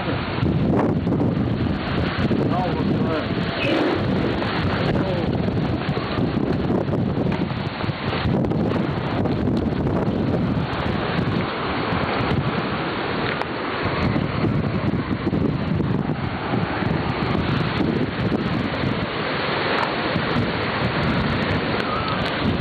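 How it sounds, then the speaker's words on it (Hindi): A thunderstorm roars steadily for the whole stretch: heavy rain, strong gusting wind buffeting the microphone, and low rumbles of thunder, loud and continuous, with no voices. "तूफान तूफान"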